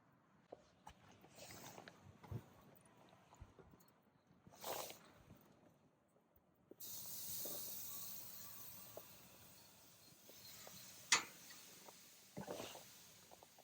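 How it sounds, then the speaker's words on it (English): Pork belly sizzling on the grates of a charcoal grill outdoors, a soft, faint hiss that swells into a steadier sizzle midway, with scattered small pops and crackles. "the sizzling when you put the meat on the grates"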